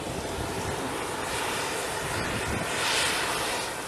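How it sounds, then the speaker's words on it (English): Marine One presidential helicopter flying, a loud steady roaring engine and rotor wash with broadband rumble that swells slightly toward the end, heard alone without voices. "Marine One helicopters undertake the arduous task of whisking the POTAs to an airbase"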